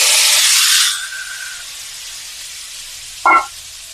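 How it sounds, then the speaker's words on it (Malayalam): Lemon pieces sautéing in hot oil with mustard seeds and curry leaves for a Trivandrum-style lemon pickle, a loud hissing sizzle that quickly settles to a soft steady fry, then a brief scrape of stirring near the end. "നാരങ്ങയിട്ട് അതിനെ വഴറ്റണം"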